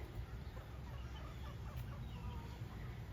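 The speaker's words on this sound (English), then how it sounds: "these are Polish hens" Polish hens, a crested, fluffy-topped chicken breed, cluck softly in a farm setting, faint low murmuring clucks over a steady background hum, with no one speaking.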